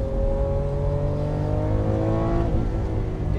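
Lamborghini Aventador engine accelerating hard, a loud, dense roar with rising pitch that climbs steadily and shifts near the end, with no voices.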